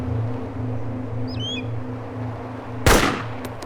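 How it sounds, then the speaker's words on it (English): A single loud Lee Enfield rifle shot cracks out in DayZ near the end, over a steady low outdoor hum with faint distant bird chirps. "the Lee Enfield is really quite loud"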